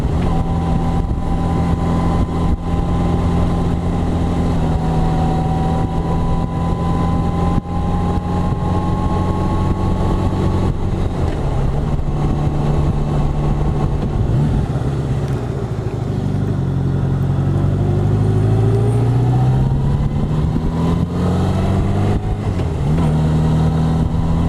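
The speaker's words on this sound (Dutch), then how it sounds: "Dit is lekker motorrijden, hè?" A motorcycle ridden along quiet Dutch country roads on a Delta Works tour: the engine drones steadily up close, its pitch rising and falling through gear changes and throttle shifts, with no talk over it.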